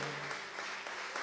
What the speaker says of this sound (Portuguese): Então aplauda ao Senhor Jesus.